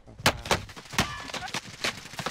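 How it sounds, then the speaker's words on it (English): Rapid gunfire in the Warzone battle royale game, a burst of sharp cracking shots in uneven quick succession, fairly close and punchy, with no talk over it. "Some shooting."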